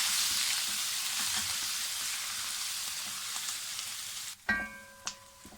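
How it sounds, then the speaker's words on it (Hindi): Loud, steady sizzling of garlic-ginger paste frying in a pan, close up, ending with a few clanks of a utensil against the pan. "अब इसमें मैं लहसुन अदरक का पेस्ट डाल दूँ। इसको भी 1 मिनट इसके साथ फ्राई करेंगे।"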